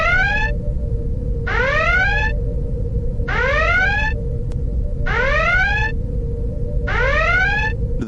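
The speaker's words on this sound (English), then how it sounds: "let's turn on the spoiler alarm" A repeating electronic alarm effect sounds five times in a regular pattern, each a bright rising warble lasting about a second, over a steady low hum, loud and alone.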